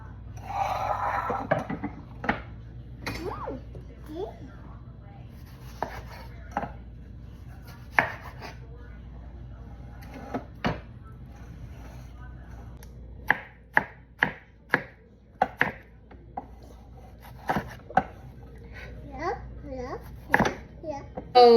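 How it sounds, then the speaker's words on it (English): A knife chops peppers and other vegetables on a cutting board for canning, irregular sharp knocks that come in quick bursts, while someone talks and babbles nearby. "We're gonna go ahead and start cutting these."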